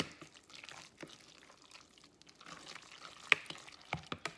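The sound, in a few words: stirring food in a pot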